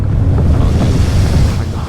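Water rising in the game Never Alone, a loud continuous low rushing roar like surging waves and wind, steady and close with no breaks.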